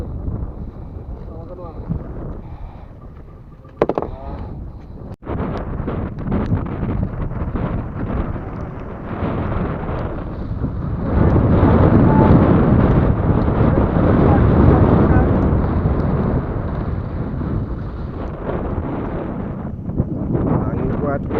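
Strong wind roars across the microphone on a small fishing boat out at sea during a light-jigging trip in rough weather. The buffeting is loud and continuous and swells stronger midway, with voices talking underneath.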